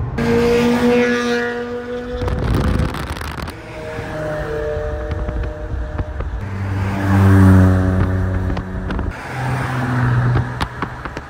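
A car cruising along the Dhaka Bypass Expressway, its engine drone rising and falling as it shifts and accelerates, with wind rushing past the microphone and no voices.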